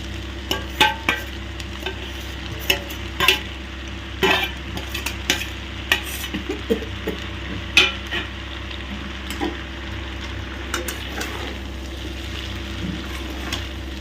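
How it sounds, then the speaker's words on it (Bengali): Chicken stirred in a hot sizzling pan for an egg chicken dish, a steady fry hiss broken by repeated scraping and clinking strokes of the spoon. "এবারে চিকেনটা দিয়ে ভালো করে নাড়িয়ে দেবো"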